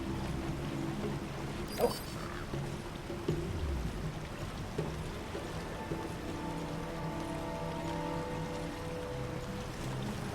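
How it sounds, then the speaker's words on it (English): Rain falls in the game Metal Gear Solid V: The Phantom Pain, a soft, steady hiss of drops with faint patters and low ambient tones beneath, quiet and continuous with no voices. "Caution, rain approaching."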